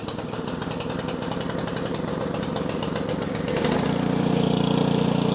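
A small garage engine, primed and choked, catches and settles into a loud, steady running drone, its pitch and level rising and steadying partway through.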